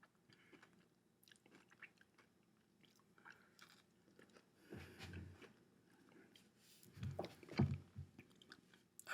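Quiet, close-up chewing of a homemade candied orange slice: soft, wet crunches and bites in irregular bursts, louder toward the end, with light breathing and no talk.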